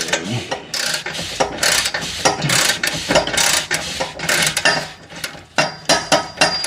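A socket wrench ratchets in quick repeated bursts while taking nuts off during catalytic converter replacement on a 2005-2010 Chevrolet Cobalt, with close, rhythmic clicking and metallic rattles.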